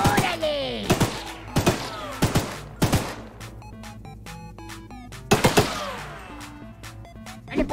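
Gunfire from the horror train game Choo-Choo Charles: a series of sharp, loud shots at uneven intervals, some in quick pairs, each with a ringing tail, over a low rumbling background.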